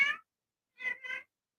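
A cat, a mother looking for her kittens, meows clearly three times at close range, one call then a pause and a quick double call, with no talk.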